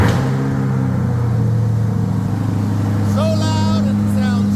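A Chevrolet Corvette C8 mid-engine sports car, awaiting a new transmission, rumbles with a steady low engine tone that climbs into a short rev partway through, heard up close under talking.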